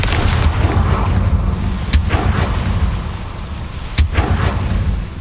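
Confringo blasting spell exploding in the Hogwarts Legacy video game, with sharp blast transients over a dense rumbling game soundscape, repeated roughly every two seconds, loud and close.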